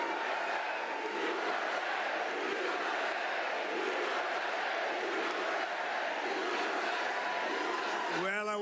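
Large crowd at a Turning Point USA rally cheering and roaring for President Trump, a dense sustained wall of voices that continues throughout, with a voice breaking through at the very end.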